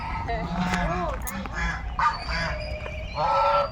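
Geese honk repeatedly and close by outside the Rajbari palace in Jalpaiguri, with overlapping harsh calls rising and falling above a low background murmur.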